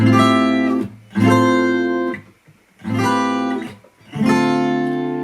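Four strummed chords ring out one after another in a simple phrase, each sustaining briefly with short gaps between, played alone.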